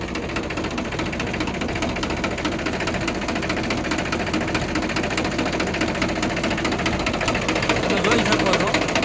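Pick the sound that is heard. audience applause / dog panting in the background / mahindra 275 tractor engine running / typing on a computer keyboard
mahindra 275 tractor engine running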